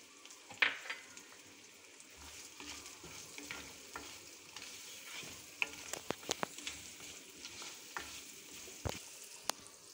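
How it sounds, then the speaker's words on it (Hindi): Cloves, cinnamon, cardamom and cumin fry in hot oil for a chicken karahi, giving a soft steady sizzle with scattered sharp pops and a few spoon clicks against the pot, close by and with no talking. "अब मैं इसमें खड़े मसाले ऐड करूँगी"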